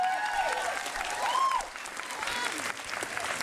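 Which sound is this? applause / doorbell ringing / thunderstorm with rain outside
applause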